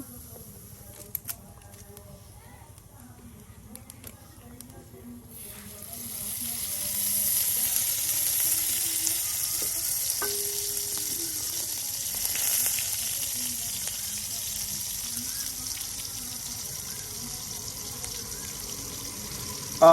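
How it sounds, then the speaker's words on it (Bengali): Chopped onion and cumin go into hot oil in a wok, and a soft hiss swells into a steady, sustained sizzle heard up close over faint background noise. "এই যে কিছু পরিমাণ জিরা ও পেঁয়াজ কুচি আপনার গরম লড়াই দিয়ে দেওয়া হলো"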